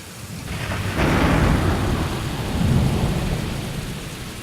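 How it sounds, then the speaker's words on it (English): A deep roll of thunder swells, fades, then rumbles again, with steady rain hissing throughout. "The thunder came like an answer."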